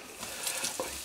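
Mushrooms hiss and crackle as they go into a very hot frying pan, a steady close sizzle with a small clatter near the end.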